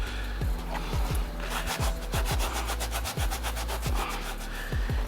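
Shoe eraser scrubbed against a sneaker midsole in quick back-and-forth strokes, a close, rhythmic rasping rub repeated steadily throughout with no talking.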